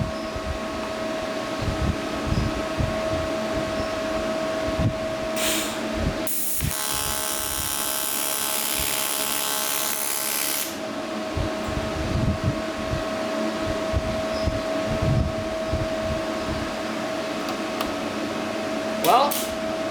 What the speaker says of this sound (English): We can get a nice first tack on this aluminum